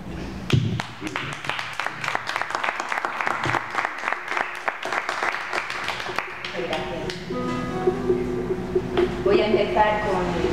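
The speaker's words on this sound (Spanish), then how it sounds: "Un abrazo muy grande, un aplauso" A lecture audience gives a round of applause, a dense stretch of clapping for several seconds that thins out as a voice begins speaking over the tail.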